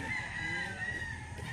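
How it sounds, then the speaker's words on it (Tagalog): Chickens and roosters fill a poultry farm with steady clucking and crowing, a dense chorus of many birds close by, with no talk over it. "Talagang manukan dahil nakita nyo yan, puno ng manok o."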